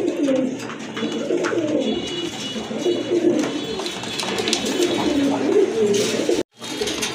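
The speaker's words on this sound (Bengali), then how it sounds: "এই যে দেখেন কবুতরগুলো" Pigeons in a bird dealer's loft, among them a pair of sky-blue Rajgolla pigeons and red birds, coo in a steady layered chorus for several seconds, loud and close, with faint flutters and no speech.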